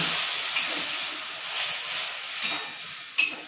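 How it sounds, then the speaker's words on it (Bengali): Water poured into a hot pan of shrimp and bottle gourd greens sets off a loud, broad steamy hiss and sizzle that swells and fades, ending with a brief clank near the end. "একটু জল দিয়ে দিই সেদ্ধ হওয়ার জন্যে"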